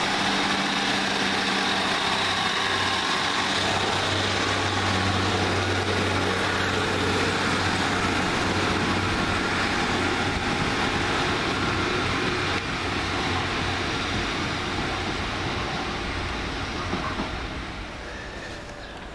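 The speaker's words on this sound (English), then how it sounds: "Now departed the 1604 Northern Rail service from Buxton to Manchester Piccadilly." A Northern Rail Class 150 diesel unit pulls away from Hazel Grove station, a loud sustained engine drone and rumble with low throbbing tones that fades slightly as the train moves off.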